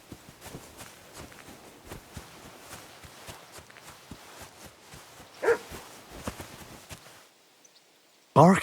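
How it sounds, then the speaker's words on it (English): In the Kingdom Come: Deliverance 2 video game, a dog barks once partway through and again loudly at the very end, after a long run of rhythmic footsteps. "Barking?"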